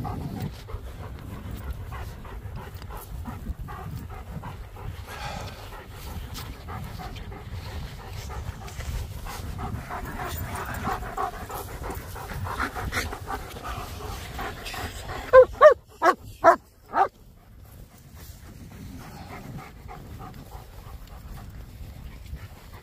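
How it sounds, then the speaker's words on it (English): German shepherds and a Staffordshire terrier in a forest make soft panting and whimpering sounds, then give a short burst of high, sharp yips near the end, with quiet background ambience. "That was the cutest yipping."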